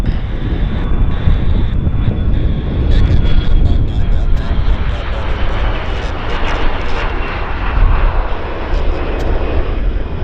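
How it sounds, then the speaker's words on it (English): Small propeller plane taking off at Vancouver airport, a steady loud engine drone mixed with wind noise on the microphone, sustained throughout with no break. "Oh, it's a little propeller plane. It's a little prop job."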